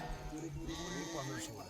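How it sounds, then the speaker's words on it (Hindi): Goat herd arriving at a herders' camp in a high mountain meadow near a Himalayan village, with bleats sounding among the animals under steady background noise and voices. "तो ये देखो सारी बकरियां आ चुकी है अपने डेरे पे।"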